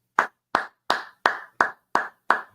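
Seven sharp, evenly spaced hand claps, close and crisp, each about a third of a second apart with no talking in between.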